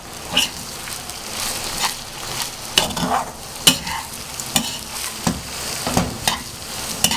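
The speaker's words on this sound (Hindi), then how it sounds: "अब इसको अच्छे से ज़रा मिक्स करते हैं" Chicken roll filling with boiled carrots being mixed in a frying pan: close, irregular spatula scrapes and knocks over a continuous hot sizzle, heard alone without any talking.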